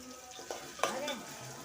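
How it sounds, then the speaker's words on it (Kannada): Onion and tomato fry in a pan while a spoon stirs them, giving a soft sizzle under a couple of scraping and clinking strokes at close range. "ಸ್ವಲ್ಪ ಫ್ರೈ ಮಾಡಿ ಸ್ವಲ್ಪ ಉಪ್ಪು ಹಾಕ್ಬೇಕು ನೋಡ್ರಿ."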